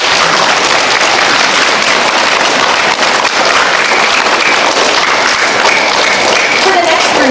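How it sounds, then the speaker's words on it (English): Dense, loud applause from a school audience at a second grade musical, steady clapping filling the whole stretch without a break, close and continuous. "will you please give your families a round of applause for getting you here tonight"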